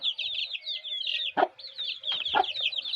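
A sickly Shamo chick peeps in rapid, high, thin chirps at close range, with a couple of short knocks or scuffs in between.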